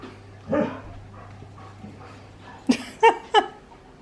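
Excited dogs at home bark and whimper, with a soft whine first and then three sharp, close barks in quick succession over a quiet room.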